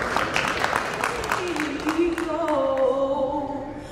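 An audience applauds in a broadband wash of clapping honoring State Chairman John Currie at a salute ceremony, while a sustained melodic tone rises from about halfway through and carries on beneath the clapping.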